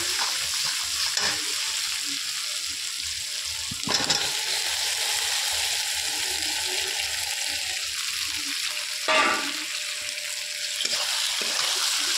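Cauliflower and potatoes frying in spiced oil for a thin turmeric katla fish curry, a steady close sizzle with a few louder stirring bursts, no talking.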